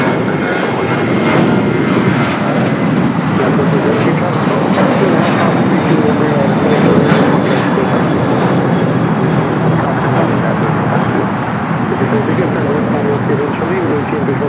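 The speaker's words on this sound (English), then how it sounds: "Got that Green Air Cargo 777 going to be taking off" A Green Air Cargo Boeing 777 heavy jet on its takeoff roll at LAX gives a loud, steady, broadband engine roar that holds at full strength for the whole stretch.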